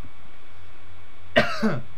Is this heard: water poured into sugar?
no